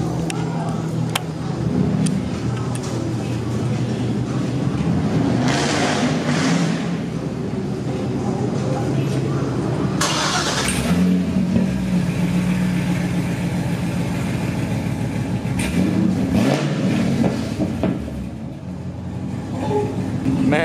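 A V1 Cadillac CTS-V's engine runs at a steady, deep idle with a low rumbling burble and occasional swells, loud and close, while someone talks over it at times.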